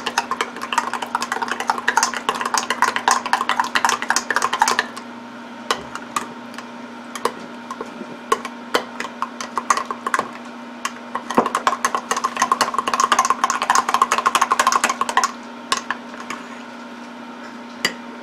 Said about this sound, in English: All right, give it a mix.